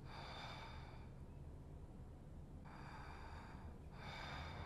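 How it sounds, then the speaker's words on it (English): Heavy, slow breathing in the horror game Summer of '58: faint, airy breaths in a steady rhythm, each drawn breath lasting about a second, separated by short quiet gaps. "is that me breathing like that?"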